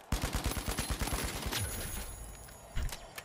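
Gunfire in THE FINALS: a rapid automatic burst of closely spaced, punchy shots for about a second and a half, then a short pause and one more loud report.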